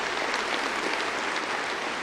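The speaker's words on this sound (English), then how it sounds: "Let's give him a round of applause for his service" Steady, dense applause from a large audience fills a university commencement ceremony, loud and continuous throughout with no pauses.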